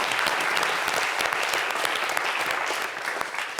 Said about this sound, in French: je voudrais qu'on applaudisse Siro.